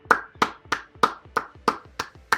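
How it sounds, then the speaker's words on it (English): Hands clap in a steady, even rhythm for a round of applause, about eight crisp claps close by, apparently from a single person, with no talking. "Big round of applause for Pud."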